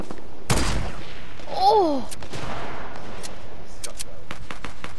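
Gunshots in a solo battle-royale shooter match, a loud burst near the start followed by scattered fainter shots over steady game ambience, with a player's brief exclamation.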